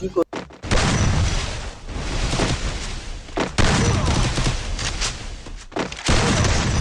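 A shooter video game fires in rapid, dense bursts of gunfire with sharp gaps between volleys, loud and close throughout, while a player talks over parts of it.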